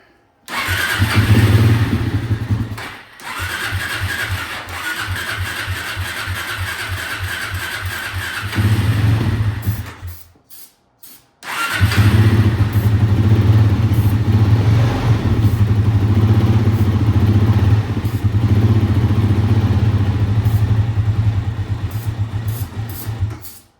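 A Kawasaki KFX400 ATV engine cranks and starts, runs loud and steady, cuts out briefly, then restarts and keeps running at a close, rough idle.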